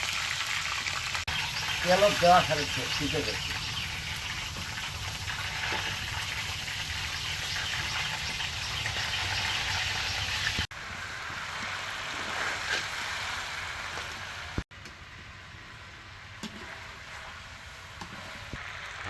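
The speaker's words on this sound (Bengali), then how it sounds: "আবার পরে আবার তাওয়াতে ভাজা শুরু করে দিয়েছি" Chicken pieces frying in oil on a flat tawa griddle for a wedding-style chicken roast, a steady sizzle under the sounds of a home kitchen while someone talks throughout.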